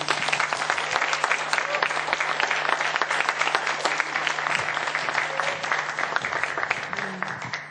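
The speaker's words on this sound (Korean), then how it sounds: "박경숙 저자님 큰 박수로 모실게요." Loud, sustained applause from an audience at a book concert welcomes an author onto the stage, a dense, even wash of clapping that runs steadily throughout and fades slightly at the end.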